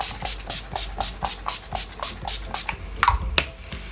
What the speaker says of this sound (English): now I'm going to take a couple setting sprays, because that's just the way I am